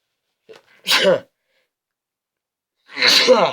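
A single loud sneeze, preceded by a short sharp intake of breath and followed after a pause by another burst of breathy vocal noise, close to the microphone.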